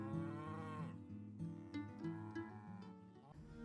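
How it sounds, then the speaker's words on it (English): Cows lowing in a field during a countryside walk, a few long drawn-out moos close by, one after another over a steady outdoor hum, with no talking. "Hello, cows."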